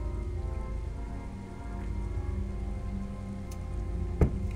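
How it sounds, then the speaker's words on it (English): Rain falls steadily in the Star Wars Galaxies emulator video game, a continuous patter on surfaces over a low hum, with a brief sharp crack near the end. "Oh, because of the fucking rain here?"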